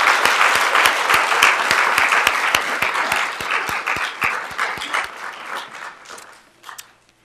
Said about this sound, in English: let's all give a round of applause to all of our participants and our finalists